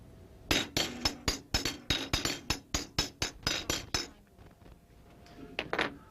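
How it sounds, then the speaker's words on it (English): Glass xylophone struck in a quick run of about fifteen bright, ringing clinks with short decays, followed by a pause and two more struck notes near the end, close and clear with no talking. "We here have a basic, simple xylophone."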